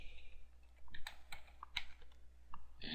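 Username typed on a computer keyboard: a quick run of light, irregular key clicks close up, with no talking over a faint steady hum.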